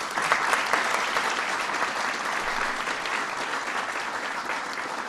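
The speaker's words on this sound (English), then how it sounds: "Please give them a big round of applause." A large audience applauds at a White House Ramadan celebration in 2011, with steady, dense clapping from many hands that holds at an even level throughout, with no talk over it.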